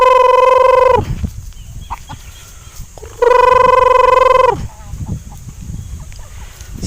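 Pet chickens on a farm giving two long, loud honking squawks separated by a pause, with softer clucks and rustling between calls, close by.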